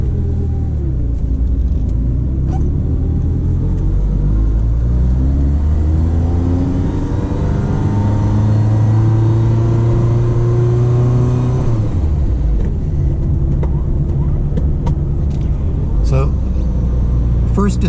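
A stone-cold 1989 Ferrari Mondial T coupe pulls out of a driveway, its engine rumbling loud and close with rising revs through the pull-away, a louder climbing pitch, then a drop and resettling; someone talks over it.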